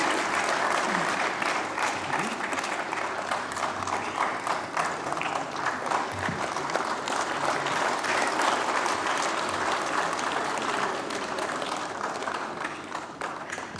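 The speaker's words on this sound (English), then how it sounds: "a big round of applause" An audience at an international arbitration event applauds during a memento presentation, with a long, steady roar of many hands clapping that stays even for over ten seconds before easing slightly at the end.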